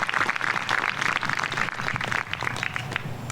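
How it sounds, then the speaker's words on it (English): An audience at a cancer centre gathering breaks into steady applause, with dense, continuous clapping that holds an even level throughout. "So please give yourself a round of applause."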